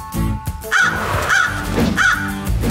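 Cartoon crows in a PAW Patrol episode give three loud, evenly spaced caws close by, with a faint background score.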